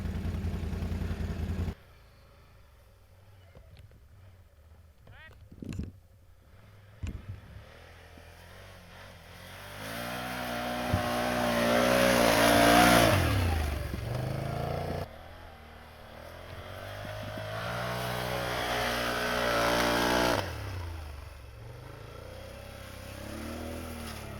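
A 2021 Can-Am 850 XMR ATV engine revving outdoors, starting faint and distant, then rising into a loud, sustained roar around the middle and holding high before tapering off, with a few sharp clatters early on.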